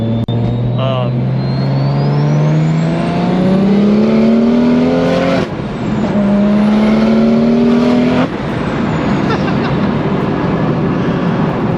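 Loud engine of a BMW 135i with open exhaust dumps revving up through the gears, a steady rising drone broken by brief shifts, with talk over it.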